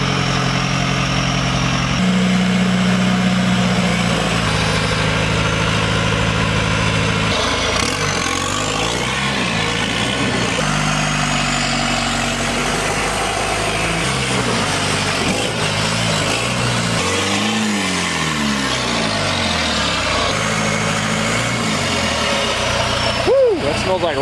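A Toyota diesel engine runs through a long stretch at an off-road diesel day in Elbe, its low drone rising and falling in pitch under frequent talk nearby.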